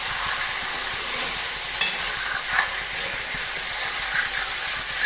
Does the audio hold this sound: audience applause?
no